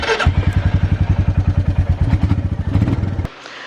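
A Royal Enfield Meteor 350 motorcycle fires up and settles into a loud, close, steady single-cylinder thump, a rapid even beat that carries for about three seconds before cutting back.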